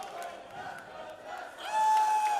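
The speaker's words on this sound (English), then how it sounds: "The chants echoing through Bed-Stuy" A crowd at a women's and intergender wrestling show chants in unison, a steady roar of voices that swells louder toward the end, with a commentator's voice faintly mixed in.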